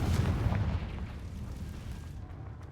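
A Confringo fire spell in Hogwarts Legacy goes off as a loud, booming blast, followed by a rumbling tail that slowly fades across the short moment.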